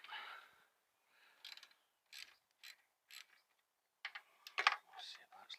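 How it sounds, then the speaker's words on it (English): Undoing an 8mm bolt and 10mm nut with a spanner during a valve check: a series of short metallic ratcheting and clicking bursts with pauses in between, close and fairly quiet. "first things first is to take this bolt out"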